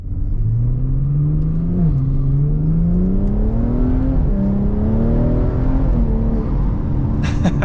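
A stage 2+ tuned BMW 340i F30 on E50 fuel pulls hard from inside the cabin, its engine droning loudly and climbing in pitch through a gear change, steady and unbroken, with a faint click near the end.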